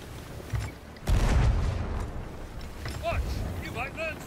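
Ship cannons fire in the pirate game Sea of Thieves, a heavy boom around one second in, followed by rumbling water and battle noise while players talk over it and melodic game sounds chirp near the end.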